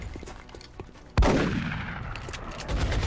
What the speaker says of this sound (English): We'll take this shot, might as well.